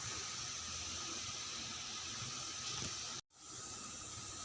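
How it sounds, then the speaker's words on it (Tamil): A steady, close hiss of water boiling in a pot fills the clip, briefly cutting out for a moment before resuming. "இப்போ தண்ணி நல்லா கொதிக்குது"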